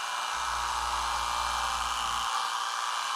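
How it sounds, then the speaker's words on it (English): An electric hair clipper shaving a head gives a low steady buzz that starts suddenly, holds for about two seconds over a constant airy hiss, then cuts off. "take the clipper off the head when you get right here"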